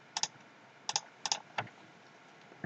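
Computer keyboard keystrokes while working in AutoCAD 2018, heard as a few sparse, close, crisp clicks in small clusters over a quiet background, with no talking.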